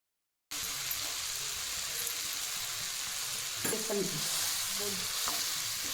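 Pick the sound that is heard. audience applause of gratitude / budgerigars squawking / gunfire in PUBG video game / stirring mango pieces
stirring mango pieces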